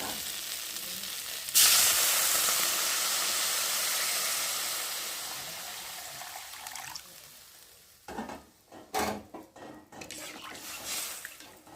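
A loud burst of sizzle erupts as water hits hot fried spice paste in a pan. The hiss fades slowly over several seconds and ends in scattered clatters and stirring knocks.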